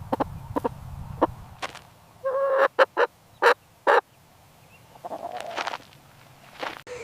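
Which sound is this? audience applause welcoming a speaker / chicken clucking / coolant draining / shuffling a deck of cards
chicken clucking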